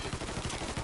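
Rapid bursts of automatic gunfire in the video game Mafia 3, loud and close, with shots overlapping in a dense, continuous rattle across the whole stretch.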